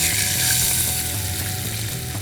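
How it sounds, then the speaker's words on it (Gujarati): Turmeric, red chili powder and water go into hot oil while tempering for rassawala khaman dhokla, giving a steady, close, bright sizzle and hiss that holds evenly throughout with no talking. "લાલ મરચું પાવડર નાખીને તરત જ આપણે એની અંદર પાણી નાખી દઈશું."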